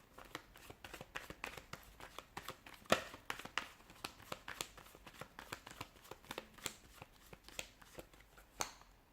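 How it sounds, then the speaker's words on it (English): Tarot cards being shuffled in quick riffling bursts, crisp papery flicks and snaps repeating throughout, close up with no voices. "give the cards a shuffle and begin"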